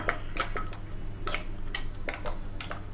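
Chutney scraped from a mixer jar into a metal bowl, with repeated short metallic clinks and scrapes of a spoon against steel, fairly close and steady over a low background hum.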